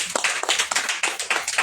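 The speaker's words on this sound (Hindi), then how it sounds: "ताली बजा सकते हैं" A group of people claps hands in a quick, uneven run of sharp close claps.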